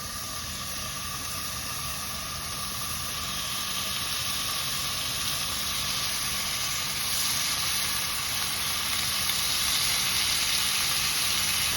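Chicken tikka skewers fry in hot oil over medium heat, giving a steady, loud, close sizzle and hiss that holds throughout with no talking.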